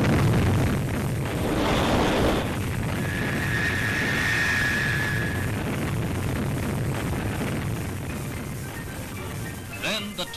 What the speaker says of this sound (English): It is only the second launching for the Thor Delta